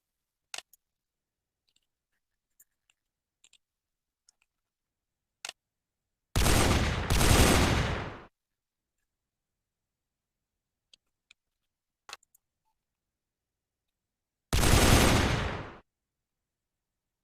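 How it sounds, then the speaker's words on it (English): A DShK 1938 heavy machine gun being loaded and fired: scattered sharp metallic clicks as the belt goes in and the action is cocked, then two loud sustained bursts of rapid automatic fire, each lasting one to two seconds. "open the feeder base, magazine belt in, pull it back once, fire"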